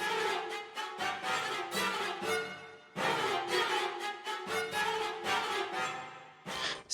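Tonal Nucleus string patches layered with atonal cello stabs: bowed chords pulse in short phrases while scraping, dissonant cello accents cut across them, loud and dense with no voices.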